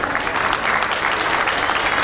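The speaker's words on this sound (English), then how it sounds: "Clap hands." An audience at a World AIDS Day launch event applauds continuously, with dense, even clapping filling the room and no pauses.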